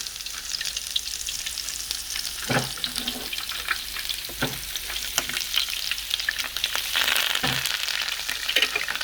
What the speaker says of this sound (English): So I'm gonna let the onion to fry just a little bit.